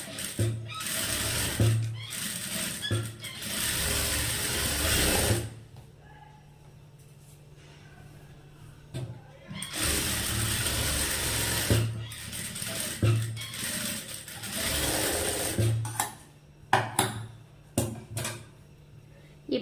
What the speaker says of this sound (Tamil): கிளாத்தை திருப்பிட்டு லைனிங் மேலே வந்து டாப் ஸ்டிச் வந்து போட்டுக்குங்க